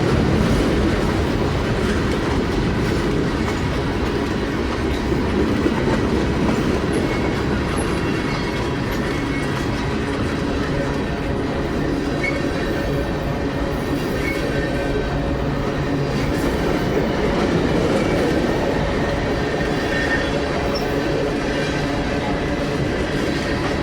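A long freight train hauled by four locomotives rolls past up close, its cars making a continuous loud rumble with rhythmic clickety-clack from the wheels over the rail joints for the whole stretch.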